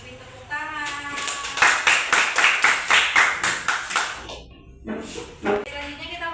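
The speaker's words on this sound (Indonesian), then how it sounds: "Beri tepuk tangan." A class of eighth-grade students claps in unison, about a dozen loud, evenly spaced beats in a steady rhythm, then a short pause and a few more claps, with voices talking around them.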